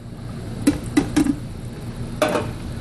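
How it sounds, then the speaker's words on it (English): Stirring a pot of Cajun étouffée after a number 10 can of tomatoes has gone in: a few sharp scraping clinks of a utensil against the pot, spaced irregularly, with a low steady hum behind. "Give that a nice stir."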